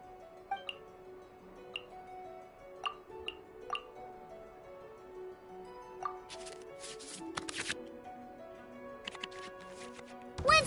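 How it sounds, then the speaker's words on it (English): Digital cards being shuffled back into the draw pile in the Genshin Impact card game, heard as scattered light ticks and clicks followed by bursts of soft swishing shuffle sounds, with no talking. "we can select any number of cards in our hand to shuffle back into the draw pile"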